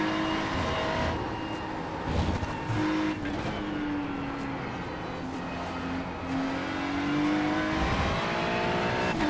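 Race car engine in a sim racing game played on a Moza R12 wheel, droning loud and steady throughout with pitch rising and falling as the car accelerates and eases off, with brief tyre squeal and skid noises.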